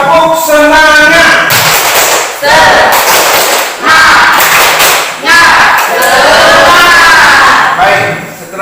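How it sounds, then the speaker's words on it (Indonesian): A Catholic religious education class of seventh-grade junior high students does a spirit clap with shouted cheers, loud close bursts of claps and voices in several rhythmic rounds. "Kita berikan tepuk tangan dulu. Anak sekalian, mari semangat. Tepuk semangat."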